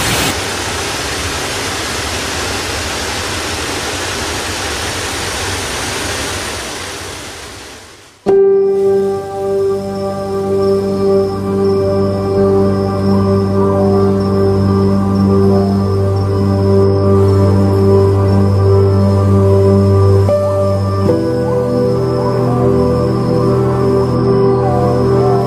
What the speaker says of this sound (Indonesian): akhirnya kita sampai di air terjun